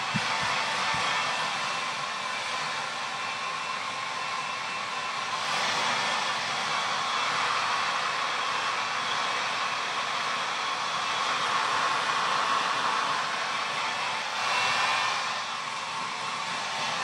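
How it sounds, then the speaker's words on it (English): Hair dryer blowing hair dry, a loud, steady broadband whoosh that runs continuously for the whole stretch, with slight swells as the airflow moves, and no talking. "I'm going to blow dry my hair, and then I'm gonna straighten it just to see how it looks when it's dry"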